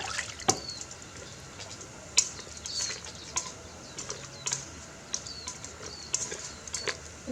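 Dry harakeke flax leaves are rolled into a pot of boiling dye, giving scattered sharp drips, taps and small splashes at irregular intervals over a soft simmering bubble.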